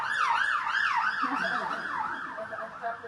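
A wailing emergency siren cycles up and down steadily, its pitch sagging and fading slightly as it passes and moves away.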